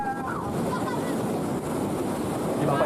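Ocean surf rolls in at Turedawola Beach in Afulu, North Nias, during an international surfing event, a continuous roar of breaking waves mixed with wind buffeting the microphone and faint voices in the background.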